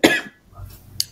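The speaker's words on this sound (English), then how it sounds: "I have a really bad cough" A single harsh cough from a person with a bad cough, close and loud, followed by faint breathy noise and quiet room sound.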